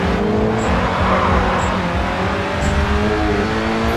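Race car engine in the video game GRID 2, a loud, continuous revving drone with rising and falling pitch as the car drifts, with no talk over it.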